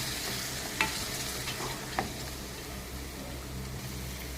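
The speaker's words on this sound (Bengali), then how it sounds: "মশলাটা আমার ভাজা হয়ে গেছে।" Spice paste of poppy seeds, cashews and green chili frying in a pan, giving a steady soft sizzle with a couple of brief scraping stirs, close and moderately quiet, with no talking.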